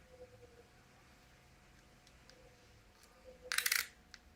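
A coin drops onto a phone during a close-up magic trick, giving a short bright metallic clatter with a few quick rattles near the end, loud and close against a quiet background with no talking.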